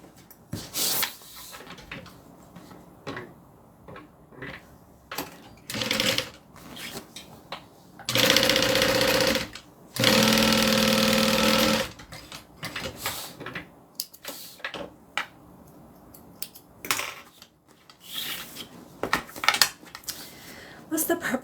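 A sewing machine stitches a bag's zipper pocket closed in two sustained whirring runs of a couple of seconds each, surrounded by handling clicks and shuffling of fabric.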